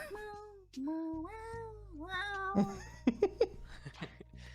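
A person imitates a cat, drawing out several rising and falling meow-like wails, followed by a few short, sharp squeaks near the end, heard close and clear against a faint low background.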